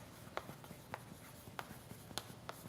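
Marker or chalk strokes on a board during a mathematics lecture, a series of faint, evenly spaced squeaks and taps with no talking.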